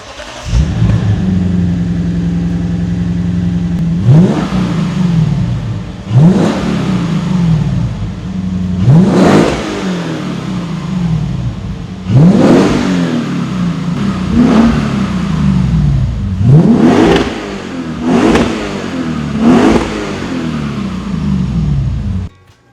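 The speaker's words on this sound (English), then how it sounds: "We're gonna do a quick test to see if there's any exhaust leaks, and then we'll rev it up." A Lexus IS F with an X-Force cat-back exhaust idles loudly up close, then is revved repeatedly in sharp blips, roughly seven rises and falls over a steady low rumble.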